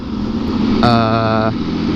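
A motorcycle engine runs steadily close by with a low, even drone, and a brief wavering tonal sound rises over it for under a second midway through.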